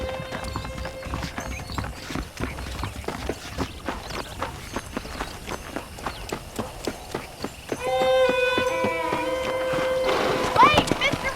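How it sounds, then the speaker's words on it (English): Saddled horses in the Western video game Red Dead Redemption, with steady hoof clip-clops under spoken dialogue and then a louder rush of galloping and music toward the end. "The horses are saddled up over here."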